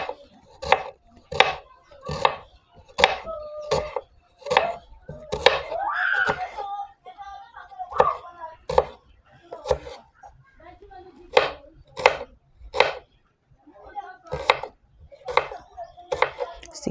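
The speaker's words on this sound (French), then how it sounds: "Vous lavez vos ingrédients et vous les coupez." A knife chops cabbage and other vegetables on a board in a home kitchen, sharp rhythmic cuts in irregular bursts, close and clear, with some voices and clatter in between.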